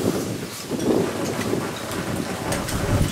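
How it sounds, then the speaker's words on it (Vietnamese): Wind blows across an open rice field in rough, gusting bursts that buffet the microphone with low rumbling noise, loud and uneven throughout, with no talk. "Quá gió."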